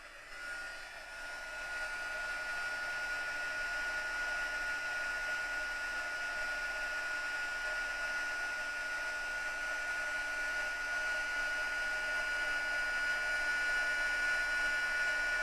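A craft heat tool blows with a steady, even whoosh and a thin high whine that holds for about fifteen seconds, close and alone without talk, after a brief quieter start.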